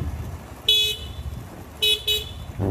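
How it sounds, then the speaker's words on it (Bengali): Two loud horn toots from a motorbike on a road, a single short blast followed by a quick double honk, over low traffic rumble. "উল্টা এইভাবে হর্ন দে"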